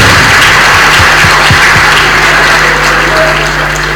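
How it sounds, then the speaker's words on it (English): An audience at a live-streamed gathering claps loudly and continuously. The sound is close, with a constant low hum beneath it. "put your hands together each time there is need to clap"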